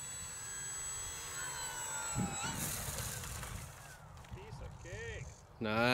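A Durafly Tundra V2 RC airplane's electric motor hums steadily and rises in pitch during a short field takeoff outdoors, with a person speaking over it.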